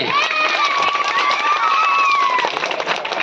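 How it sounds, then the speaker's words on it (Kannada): A school talent event crowd cheers and shouts loudly, with children's voices and clapping blending into a dense, continuous roar that stays strong throughout. "ಮನುಷ್ಯರಿಗೆ ಒಂದು ದೊಡ್ಡ ಚಪ್ಪಾಳೆ ಬರಲಿ"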